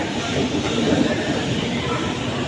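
A superfast express train running between Palakkad and Erode pulls into a station with a loud, continuous rumble and rattle of wheels and carriages heard close by on the platform.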